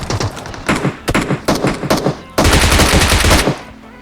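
Automatic gunfire in a shooter video game as an enemy is knocked down: several quick bursts of close, loud shots, then one longer sustained volley before it cuts off.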